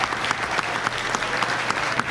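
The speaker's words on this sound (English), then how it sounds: "let's give them a round of applause" Wedding guests give a round of applause at an evening reception, a loud close crowd of clapping with sharp individual claps standing out, continuous for a couple of seconds.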